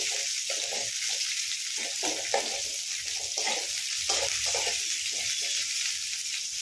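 Onions fry in a pan for vermicelli upma, a steady bright sizzle with rhythmic stirring scrapes pulsing through it, close and constant.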